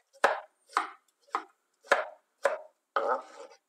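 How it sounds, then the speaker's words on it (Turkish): Tomatoes are cut into large cubes with a knife on a cutting board: six distinct, close chops at a steady, unhurried pace, the last one longer and scraping, with no talking. "Domateslerimi de iri olarak doğruyorum küp küp."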